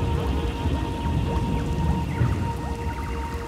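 Steady heavy rain during a thunderstorm in Star Wars: The Old Republic pours evenly and close, with a low rumble of thunder under the constant patter.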